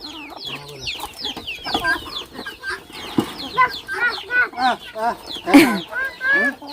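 Chickens and ducks on a Thai farm cluck and squawk in a busy run of short, close calls, with people talking over and between them.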